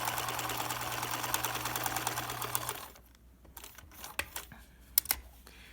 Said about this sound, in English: we're actually gonna sew all the way around the mask once